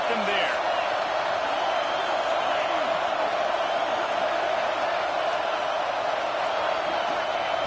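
Football stadium crowd in Georgia roaring steadily, a loud, dense, unbroken wall of cheering and noise with no pauses.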